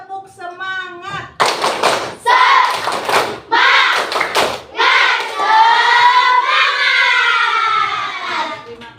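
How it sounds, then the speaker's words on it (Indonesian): A school class claps a rhythmic spirit chant in unison, with loud bursts of hand claps mixed into group chanting and a teacher's voice. "Kita coba praktekkan dulu ya. 1, 2, 3. Kekompakannya Ibu minta. 1, 2, 3. Tepuk semangat."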